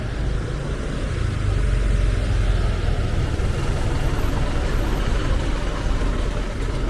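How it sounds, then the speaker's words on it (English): A bus rumbles past near a temple site outside Angkor Wat in Siem Reap, Cambodia: a steady, loud, low engine drone holding for several seconds with a faint high whine above it. "Damn you, bus."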